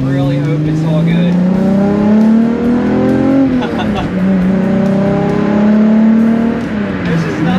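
A VW Corrado with a VR engine drives and revs, its engine note climbing and falling in smooth sweeps up close. The tone is loud and continuous, and someone talks over part of it.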